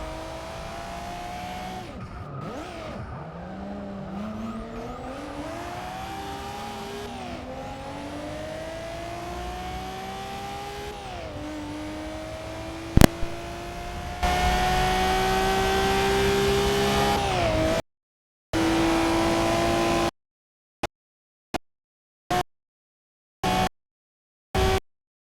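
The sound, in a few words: 2002 Nissan Skyline GT-R racing in video game Forza Motorsport 6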